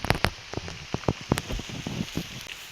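Rain falls in the countryside, with scattered drops ticking and pattering sharply on a nearby surface over a soft, steady hiss, and no voices.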